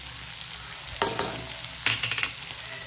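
Chicken chilli with onion and salt frying over a high flame, a constant hiss broken by two short bursts of stirring and spatula scrapes.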